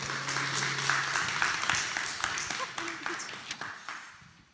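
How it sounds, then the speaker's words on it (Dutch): Warm audience applause at a Dutch political lecture event, a dense wash of clapping that stays steady and then gradually thins and fades toward the end, with no speech over it. "Geef hem een warm applaus."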